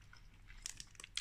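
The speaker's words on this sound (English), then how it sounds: "Nice texture. I love the wee crunch as well." Crunchy chewing of a Hershey's salted caramel toffee bar, close and quiet, with a few brief crisp bites clustered toward the end.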